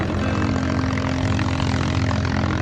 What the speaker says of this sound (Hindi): पीछे एक ट्रैक्टर आ रहा है